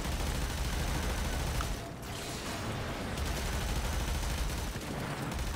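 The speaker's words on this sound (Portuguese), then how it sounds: "Vou meter bala aqui, meter bala em tudo." Continuous gunfire from the game Warframe during an Armada Razorback event: a dense, unbroken roar of shots held at loud level throughout, with one brief dip near the two-second mark.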